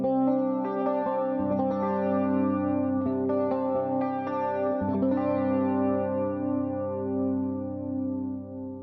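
An electric guitar played through the Foxy 30M amp model on a Valeton GP200 rings out sustained chords with a shimmering, effected tone, a few strums layering over long ringing notes, close and without talk.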